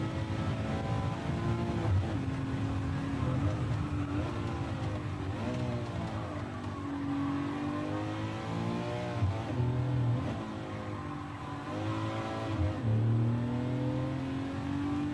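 A race car engine in Gran Turismo 7 revs and drones continuously through shifts on an endurance run at Alsace circuit, pitch rising and falling steadily and loud throughout, with no talk.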